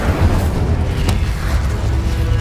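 Incendio fire spell cast in Hogwarts Legacy, a loud deep whooshing boom with a sharp burst near the middle, dense rumbling low end sustained for a couple of seconds, no talking.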